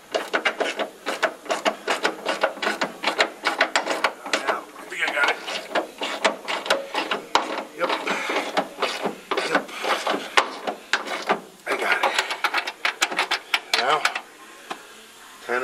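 A ratchet tightening screws on an independent rear suspension being installed in a 1993 Ford Foxbody Mustang LX, rapid close clicking bursts in quick repeated runs with brief pauses between them.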